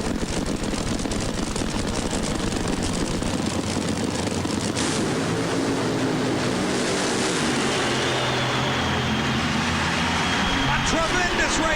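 Funny car drag racing at a 1990 championship event: engine roar of cars making a run, heard under continuous excited race commentary.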